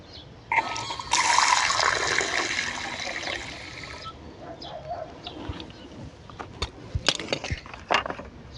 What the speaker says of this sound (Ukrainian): Зараз для чистоти експерименту налью стакан чистої води.